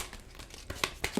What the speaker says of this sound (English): Kind of shuffled already, but still going through a little bit of shuffling.